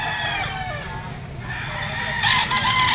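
A stag rooster crowing at a pet market, a loud, close, drawn-out crow with a second call rising near the end, over busy market noise and someone speaking.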